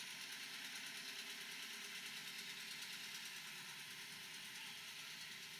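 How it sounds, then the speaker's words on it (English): A two-cylinder antique tractor engine idles steadily and roughly with an even popping chug, close and continuous for the whole stretch, no voices. "These 2-cylinder tractors, if you've never heard them before, that's why they got the pop, pop, pop sound"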